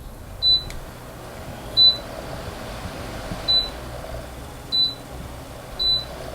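A HAUEA portable air conditioner gives five short, high electronic beeps, evenly spaced about a second apart, as remote buttons are pressed. Steady low room hum runs underneath.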